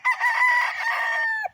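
A rooster crows outdoors on grass in the sun, one loud, close, sustained cock-a-doodle-doo that stands alone and ends abruptly.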